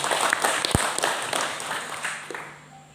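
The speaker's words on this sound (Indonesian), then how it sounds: "Tepuk tangan untuk beliau." Attendees at a Muhammadiyah regional meeting in Pasaman Barat applaud a guest, moderate scattered clapping with a sharp knock partway through, fading out toward the end.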